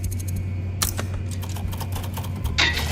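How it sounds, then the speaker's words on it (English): Rapid clicking keystrokes on a computer keyboard, close and continuous, with a few louder taps over a steady low background hum. "Boogie, you wish you were as fast as me in the keyboard"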